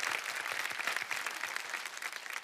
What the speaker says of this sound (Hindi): लेडीज एंड जेंटलमैन, सकेत भोसले के लिए एक बार फिर तालियां हो जाए।